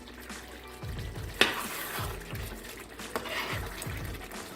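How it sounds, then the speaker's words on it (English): Jamaican oxtail stew stirred in a pot, heard as repeated scraping sweeps of a spoon every second or so through thick bubbling liquid, with a couple of sharp knocks against the pot, close and moderate in level. "Give it a good stir."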